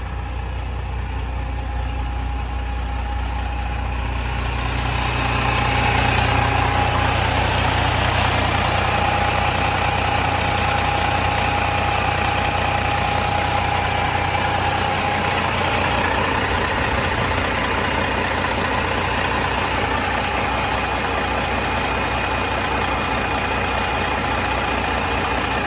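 A 2016 Peterbilt 389 glider kit truck engine idles steadily, a loud, close, continuous diesel drone that swells slightly after the first few seconds and holds for over twenty seconds with no talking.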